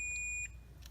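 A multimeter set to continuity gives a clear, steady high-pitched beep for under half a second, close and alone, during a drone build.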